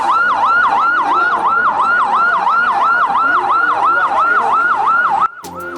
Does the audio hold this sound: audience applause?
no